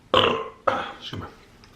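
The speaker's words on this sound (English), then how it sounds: "Nothing like a good burp to open up some more bites." A loud, close burp while eating a Five Guys meal, a deep throaty eructation in two or three pulses over under two seconds, heard alone.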